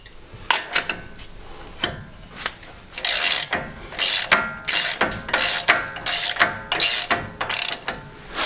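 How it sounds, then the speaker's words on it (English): Ratchet tightening the nut on a 2016 Jeep JK ball joint; loud, close rapid clicking in repeated bursts of strokes, with a few metallic clinks between. "And 100 foot-pounds torque on the nut."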